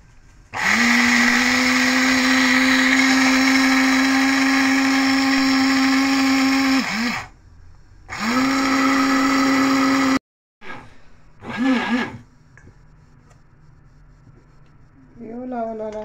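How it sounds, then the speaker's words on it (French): Small electric mixer grinding raw rice into flour, a loud steady high whine that runs for several seconds, stops, restarts briefly, then settles into shorter bursts and quieter stretches. "Et je vais mixer."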